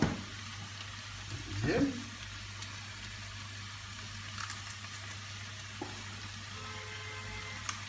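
Vegetables with pressed garlic sweat in a pan with a soft, constant sizzle, broken by a few utensil knocks and a brief spoken word.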